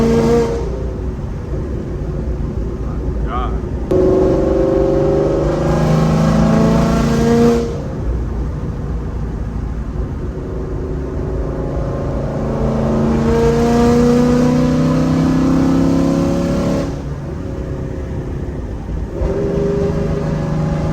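A Jeep CJ with an FBO 5.0 engine and a very loud exhaust roars from inside the cabin, accelerating in long surges with brief pauses for gear shifts along a straightaway.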